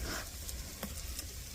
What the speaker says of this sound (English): And give it a little stir.